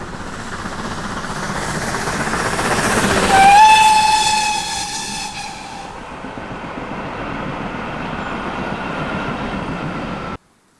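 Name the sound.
steam locomotive 3440 City of Truro approaching, whistling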